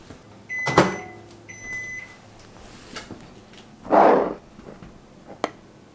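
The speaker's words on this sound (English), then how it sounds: "I'm going to go ahead and heat it up in the microwave" A microwave oven heating honey beeps twice, then a door thumps shut and the oven hums briefly, followed by a click.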